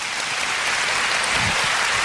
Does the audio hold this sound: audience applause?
yes